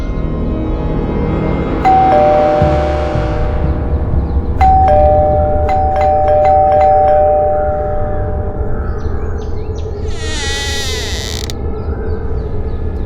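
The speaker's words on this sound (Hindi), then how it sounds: "घंटी बजाओ।" A doorbell in a home setting chimes a few sustained tones, with clear separate rings a few seconds apart, over mechanical creaking and background noise, and a brief warbling electronic tone near the end.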